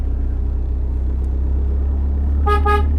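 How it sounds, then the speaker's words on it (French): A steady low engine rumble from a Morgan 4/4 car, then two short horn honks close together near the end. "Klaxon devant nous."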